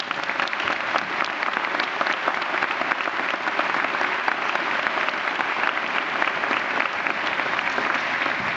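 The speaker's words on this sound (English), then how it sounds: "So please give them all a big round of applause." A school audience applauds middle school honor students who have earned no grades below an A, with steady, dense clapping that stays loud and unbroken throughout, and no talking over it.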